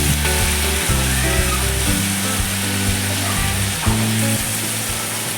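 Sliced ridge gourd sizzles in a hot pan with salt for a vegetarian dish, a continuous loud frying hiss with occasional stirring, alongside a low tonal background sound.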